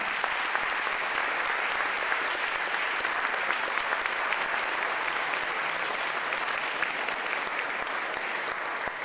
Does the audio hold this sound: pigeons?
no